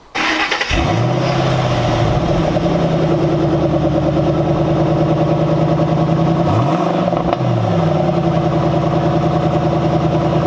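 A Ford Mustang GT with a manual clutch rumbles loud and close on the road, a steady deep engine drone with a brief dip and rise as the revs shift.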